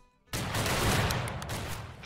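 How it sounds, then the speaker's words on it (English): A massed musket volley from a line of infantry in the Civil War game Battle Cry of Freedom: a sudden loud crackling roar of many shots at once that stays dense, then fades into a long rolling rumble. "I want us to fire a volley at 155."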